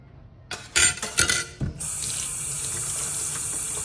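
Tap water runs into a sink while items are washed: a few clattering knocks and splashes, then a steady, close hiss of flowing water continues to the end.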